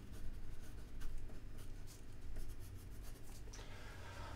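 A pen scratches a song title onto a chord chart in continuous close strokes with short pauses between words, heard alone with no voices.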